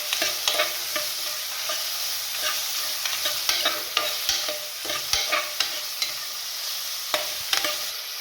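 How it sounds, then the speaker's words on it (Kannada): Onions fry in hot oil for chicken gravy, giving a steady close sizzle broken by a scrape or clatter from stirring every second or so, with no voices. "ಈಗ ಎಣ್ಣೆ ಕಾದಿದೆ, ಈರುಳ್ಳಿ ಹಾಕ್ಕೊತೀನಿ."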